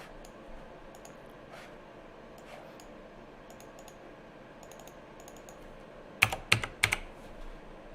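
Quiet, steady keystrokes tap on a computer keyboard at a trading desk, ending in a few louder, sharper clacks near the end, with no voices.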